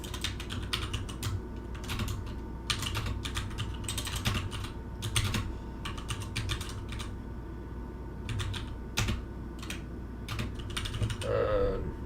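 Rapid, irregular keystrokes on a computer keyboard, close and continuous, with only faint background hum and no talk.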